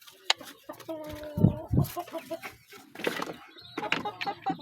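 Chickens and young chicks clucking and peeping close by in a backyard coop, short bursts of calls with one louder flurry, while someone speaks quietly at times.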